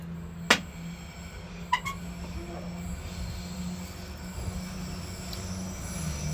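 A train passes close by with squealing wheels and a steady low rumble of rail cars, a few sharp metallic screeches standing out, fairly quiet overall and with no talk.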